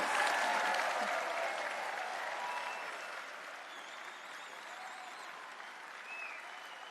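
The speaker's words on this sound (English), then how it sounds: "Let's give them a big round of applause." A sustained round of applause from a large graduation ceremony audience, thick crowd clapping at full strength at first and tapering gradually, with faint whoops and shouts mixed in.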